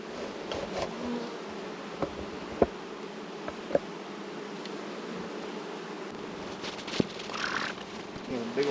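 Honey bees swarm thickly over the front and back of a hive, with possible swarm cells inside. Their steady, close buzzing drone runs throughout, broken by a few sharp ticks and taps.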